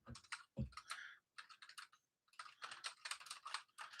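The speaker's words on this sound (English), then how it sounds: "I'm just typing in case you can't hear me for whatever reason" Steady bursts of fast typing on a computer keyboard during a livestream, clattering keystrokes in close, uneven runs with short pauses between them, heard alone without speech.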